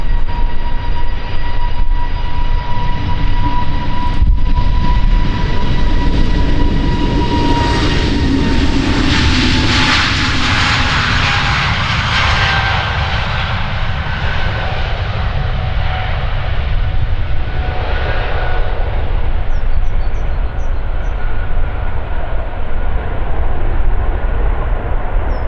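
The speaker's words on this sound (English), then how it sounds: "An A320neo to Oslo is departing. Really love the sound of these engines." Airbus A320neo jet engines on takeoff departure from Amsterdam Schiphol runway 36L, a loud sustained roar with a rising and sweeping whine as the aircraft passes close by, with no voices.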